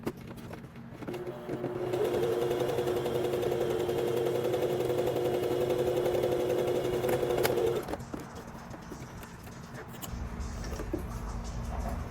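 A home sewing machine runs steadily for about six seconds, top stitching piping around a pajama shirt pocket for a Butterick 6296 set, then stops, leaving quiet room noise and a low rumble.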